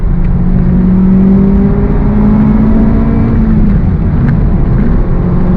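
A 2023 Honda Civic Type R accelerating hard in third gear on throttle, its engine loud and close with a rising, sustained drone and no talk over it.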